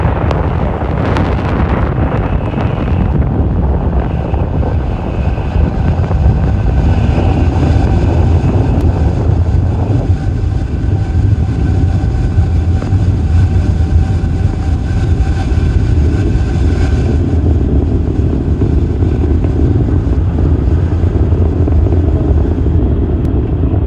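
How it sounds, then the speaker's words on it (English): A SpaceX Falcon 9 carrying Starlink satellites and BlueWalker 3 lifts off from LC-39A at Kennedy Space Center, producing a loud, continuous, rumbling roar with a crackling, wind-buffeted edge that holds steady throughout. "What you are seeing on your screen is Falcon 9 accelerating AST SpaceMobile's BlueWalker 3 and our Starlink satellites into space."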